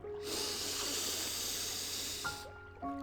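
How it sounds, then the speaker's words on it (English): A long deep inhale at the start of a guided meditation, a steady breathy hiss held close to the microphone for about two seconds before fading out, with faint tones underneath. "I want you to start with a deep breath. Inhale"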